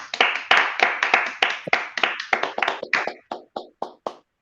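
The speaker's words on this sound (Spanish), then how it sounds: "démosle un fuerte aplauso a nuestro expositor" A small seminar audience claps unevenly, a couple of dozen separate claps with a close, tappy quality, likely over open microphones on a video call, gradually thinning out and stopping.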